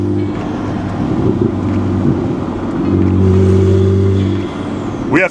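BMW E60 with the N54 twin-turbo engine pulling under acceleration, a steady loud drone with rising engine tone and some wind rush, ending in a brief sharp sweep.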